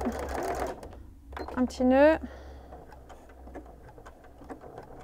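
A sewing machine stitches a rib-knit cuff onto a sleeve in a short whirring burst, close and fairly loud. Someone speaks softly before and after it.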